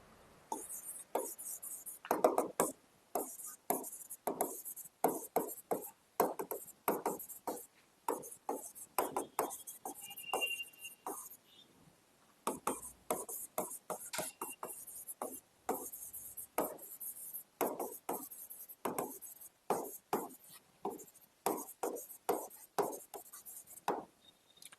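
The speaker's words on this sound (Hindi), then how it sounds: "मैं क्वेश्चन लिख देता हूं आपके लिए।" A marker or chalk scratches out a question on a board in a classroom lesson, a long run of short, quiet, rhythmic strokes with brief pauses and no talk.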